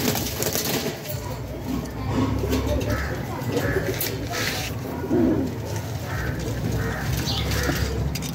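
Domestic pigeons kept for breeding coo at close range in a loft, low soft calls repeating against a steady background murmur of other birds, with no one talking.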